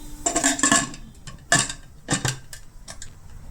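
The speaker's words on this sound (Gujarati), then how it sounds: "આ રીતે બધું મિક્સિંગ કરી અને કુકરનું ઢાંકણ બંધ કરી દેશું" A metal pressure cooker lid is fitted and closed over a pot of pigeon peas, giving several close clinks and metallic clatters in quick irregular succession.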